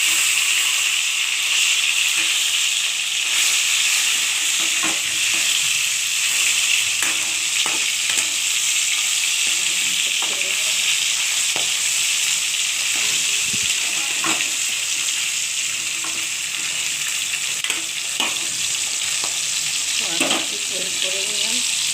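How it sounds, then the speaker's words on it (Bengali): Rohu fish pieces and head frying in hot oil, a continuous loud sizzle and hiss with scattered pops and spatters, and occasional scrapes of stirring close by. "দেখুন বন্ধুরা, মাছের এক পিস ভাজা হয়ে গেছে ভালোভাবে"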